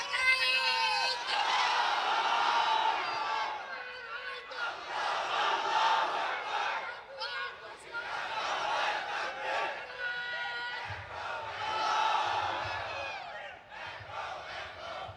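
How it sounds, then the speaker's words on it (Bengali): At a Bangladeshi religious sermon rally, a large crowd shouts the takbir chant in loud, repeated waves, with roaring surges broken by short pauses over several rounds. "তাকবীর ধ্বনি দাও"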